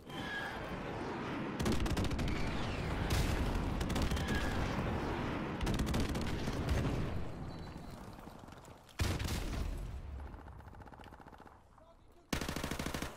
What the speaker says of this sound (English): I want to call on this airstrike, even though I might not get any kills.